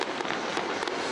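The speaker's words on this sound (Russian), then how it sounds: "Очень классный салют." New Year fireworks burst over Alanya, Turkey, in a dense, continuous crackling roar with sharper pops standing out, loud and filling the whole moment.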